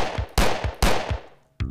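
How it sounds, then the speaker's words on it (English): Gunfire sounds as enemies are shot in an indie jam video game, three loud sharp blasts at even spacing, each trailing off in a decaying rumble, then a brief synthetic tone at the end. "These enemies, they don't really attack you, so I don't really know why I'm shooting them."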